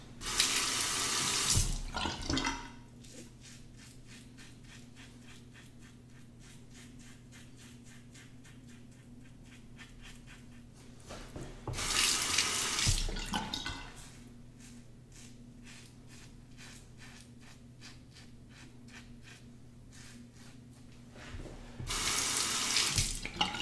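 A tap runs while a Parker SoloEdge razor is rinsed, with loud gushing bursts of water at the start, middle and end and a quieter steady hum between them.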